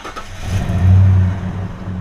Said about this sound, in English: Let's start the truck up and see if that'll work.